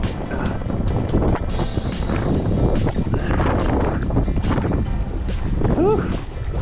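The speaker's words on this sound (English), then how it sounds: "Got a really big gust of wind." Strong wind gusting over a canoe on open water during a cross-Canada paddle, a loud continuous rushing roar buffeting the microphone throughout, with a voice speaking and exclaiming over it.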